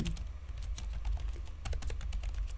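Rapid keystrokes on a computer keyboard, including a Shift+Tab press, while editing a coding exercise; clicks come in quick irregular bursts, close and steady throughout with no talking.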